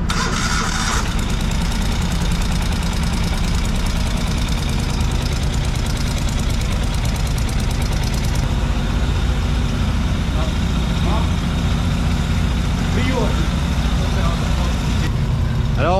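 A car engine cranks and starts after its two injectors are swapped, then idles with a steady, rough, loud running note and a faint knock, the right cylinder still cold.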